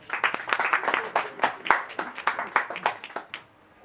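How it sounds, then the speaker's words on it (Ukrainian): Dense applause from an audience at a book presentation, many hands clapping loudly for a few seconds, then cutting off abruptly into near silence. "під ваші оплески."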